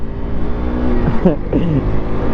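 A motorbike engine runs as the rider pulls away after fueling up, a loud steady rumble with a short revving rise in pitch midway while a voice talks briefly over it.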